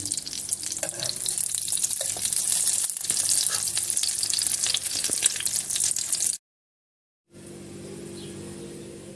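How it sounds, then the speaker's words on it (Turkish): Loud, steady sizzling of zucchini slices frying in hot oil in a pan, with occasional clinks, a brief cut to silence, then quieter frying resumes. "Kızaran kabaklarımı hemen servis tabağıma alıyorum. Ve yenilerini tavama ilave ediyorum."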